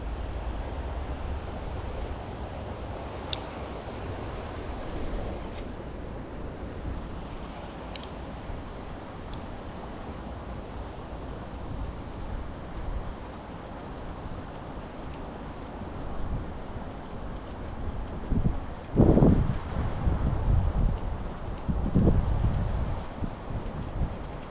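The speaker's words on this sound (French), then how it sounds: "le vent se lève un peu" Wind blows outdoors beside the water at a black bass fishing spot, a steady low rumble of gusts buffeting the microphone, swelling into louder bursts near the end.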